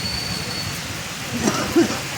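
Rain falls with wind in Nadiad as a continuous broad rushing wash, with a couple of faint brief tones near the end and no voices.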